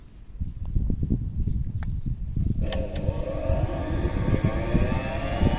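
A small log splitter's washing machine motor hums low as it starts, then runs steadily, with a rising whine joining partway through, loud and continuous throughout.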